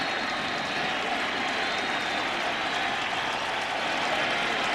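A large baseball stadium crowd roars and applauds steadily during a playoff game, a dense continuous wash of cheering and clapping that fills the space.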